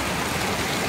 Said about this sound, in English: now it's raining, and it's almost bearable, aside from the incredible noise